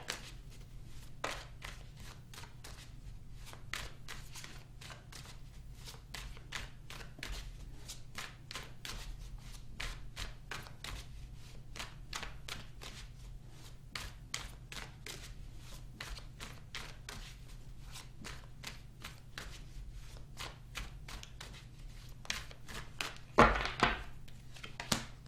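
Tarot cards shuffled for a reading, a long steady run of soft riffling slaps and flicks at close range, with a louder burst of handling near the end and no speech.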